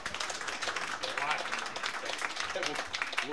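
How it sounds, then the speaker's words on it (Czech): Talk show studio audience breaking into applause, a dense patter of clapping that carries through the whole stretch while a host's voice talks over it. "Můžete tleskat."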